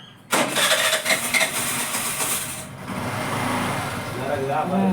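A vehicle engine cranks and catches abruptly, then settles into a steady, fairly loud running rumble during an Ayutha Pooja celebration, with people talking over it.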